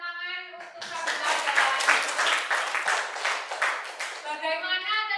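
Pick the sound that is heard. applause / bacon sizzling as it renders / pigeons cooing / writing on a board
applause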